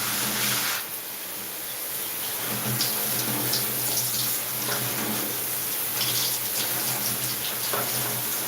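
A shower runs steadily, its dense hiss of falling water spraying continuously at close range with slight shifts in splash intensity throughout.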